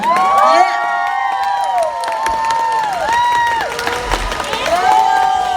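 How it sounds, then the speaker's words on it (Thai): An audience at a stage event in Thailand claps and cheers, loud shouts and whoops riding over a background of crowd noise and applause, close and energetic throughout. "ขอเสียงปรบมือตัวเองค่ะ"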